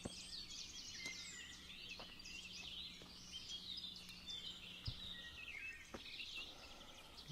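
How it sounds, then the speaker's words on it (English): Birds chirp and tweet in a thick forest in the video game Kingdom Come: Deliverance, a bright, busy chorus of small calls carrying on continuously at moderate distance, with a low hum and a few soft clicks beneath. "You can hear the birds tweeting"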